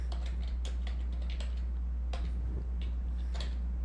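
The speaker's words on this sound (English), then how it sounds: "I'm just going to start typing here." Computer keyboard keys tapped while entering a line of text, a scattering of light, irregular clicks spaced over a steady low electrical hum, with no voices.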